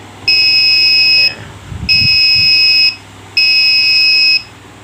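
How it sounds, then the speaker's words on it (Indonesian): Three steady electronic buzzer beeps from an RFID door lock, each about a second long, evenly spaced and loud, with a brief low rumble between the first two. "buzzer akan berbunyi beep"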